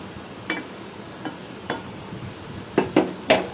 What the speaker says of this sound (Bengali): একটু ভালো মতো নাড়বো যাতে লেগে না যায়।